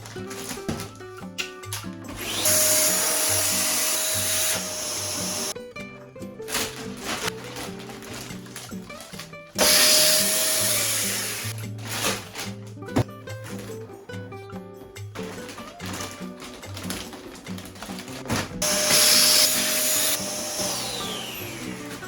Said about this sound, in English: I'm really scared that if I leave the vacuum like sucking all the air out for too long, like the vacuum's gonna like explode